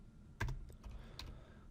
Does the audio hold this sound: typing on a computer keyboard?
yes